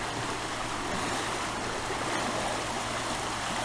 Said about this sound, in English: I'm now looking at the river.